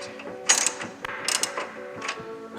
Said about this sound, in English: as I tighten or try to tighten that nut